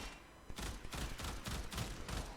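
Rapid bursts of gunfire from a Burston Prime rifle in the Warframe video game, about five loud, sharp volleys spaced roughly every half second, close and without talk.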